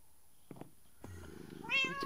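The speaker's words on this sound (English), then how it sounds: "There's a kitty cat." A cat in the Minecraft video game gives a couple of short soft meows, followed by a longer rising meow, all quiet and close with nothing else around.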